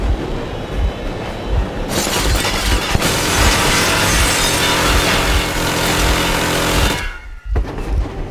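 The train engine in Metro Exodus makes a loud, steady, rumbling drone with a hissing metallic wash on top. It cuts off abruptly near the end, then briefly returns.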